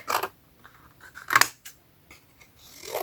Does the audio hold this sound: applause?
no